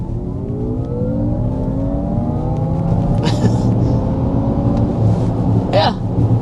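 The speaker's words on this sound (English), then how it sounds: "you do have this cool futuristic sound effect, which is applied as you accelerate and decelerate" A 2024 Honda Prologue electric SUV plays its futuristic acceleration sound through active sound control, a smooth synthetic tone sweeping upward in pitch over low road rumble inside the cabin, with a couple of brief clicks.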